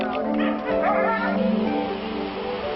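Sled dogs on an Arctic expedition barking, yipping and whimpering together as a noisy pack, close and continuous, with a voice faintly under them.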